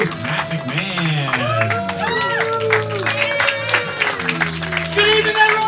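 A comedy club audience applauds and cheers throughout, the clapping continuous and fairly loud beneath prominent music with sustained tones and a strong beat.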